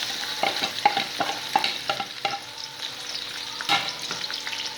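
Onion frying in hot oil in a home kitchen, a soft continuous sizzle broken by scattered clicks and scrapes of stirring, close and moderate in level, with no voices.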